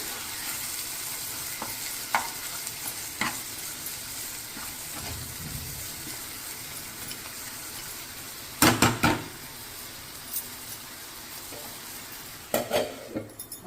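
A spice masala of salt, chili powder, garam masala, coriander powder and turmeric fries in a pan for egg curry, a steady sizzle broken by several sharp scraping stirs and utensil knocks, especially toward the end.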